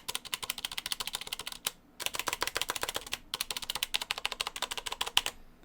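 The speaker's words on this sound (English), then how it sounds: "Platinum from Corsair with Cherry MX Brown tactile key switches." Rapid typing on a Corsair Platinum keyboard with Cherry MX Brown tactile switches and stabilized spacebar and shift keys produces close, crisp clicks in quick bursts, with two brief pauses between runs.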